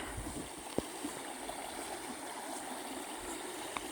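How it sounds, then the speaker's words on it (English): Water stream flowing outdoors near a mountain, a steady broadband rushing wash that continues throughout with no pauses, with a couple of faint brief knocks in the background. "Love the noise of this water, that's so therapeutic."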